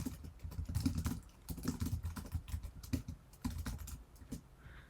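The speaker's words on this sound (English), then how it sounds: "So this is where I can type my lesson overview." Keys clatter on a computer keyboard in quick, irregular bursts with short pauses between them, close and fairly quiet, with no voices.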